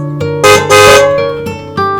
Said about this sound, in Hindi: पतिदेव की कार का हॉर्न सुनते ही वो लपक कर दरवाजा खोलने गई